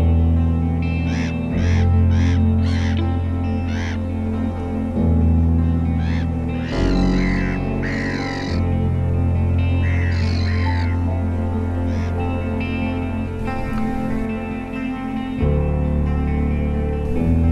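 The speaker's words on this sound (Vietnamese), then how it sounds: "Ở đây chim mòng biển đang cố cướp lấy miếng mồi của diều hâu." Gulls call harshly as they mob a kite to snatch its prey above Lake Constance, with repeated squawks over a loud, constant low rumble of wind and water.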